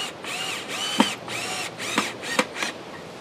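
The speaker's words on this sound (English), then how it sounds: "drill the hole" A power drill bores a hole in a log bird house, its motor whirring in short pulses that rise and fall, with a few sharp knocks in between.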